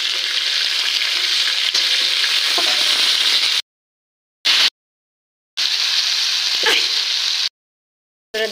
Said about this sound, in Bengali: এবার দিয়ে দেবো বেগুনটাকে দিয়ে আর বেগুনটাও একটু ভাজি করে নেবো আমি।